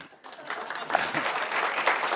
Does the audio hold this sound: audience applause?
yes